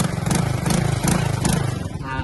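A motorcycle engine runs close by with a loud, steady putter that pulses in a regular rhythm throughout.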